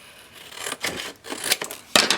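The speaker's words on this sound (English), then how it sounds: "I'm just going to cut it with my scissors" A few crisp snips of scissors cutting through paper for a scrapbook cover, close up, in separate bursts with short pauses between.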